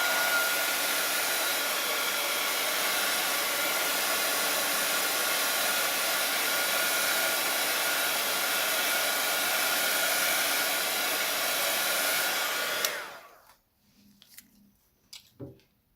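A hair dryer blows steadily and loudly over an alcohol ink cloud painting for about thirteen seconds, then cuts off, leaving a few faint clicks and handling noises.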